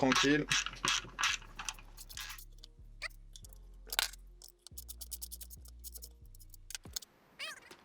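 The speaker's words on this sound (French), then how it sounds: "Donc là, on va avoir deux petites vis à desserrer." Two small screws on a BMW E46 alternator are loosened with a ratchet, giving a close series of quick clicking pawl sweeps with short pauses between turns and brief handling noises.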